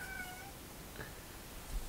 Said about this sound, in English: We've got a meowing cat over here.